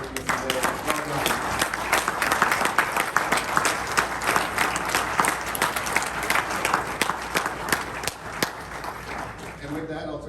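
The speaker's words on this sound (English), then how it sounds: "let's give a final round of applause for all those recipients today" A round of applause for award recipients at a monthly club meeting, many hands clapping steadily for about ten seconds, with voices mixed in underneath.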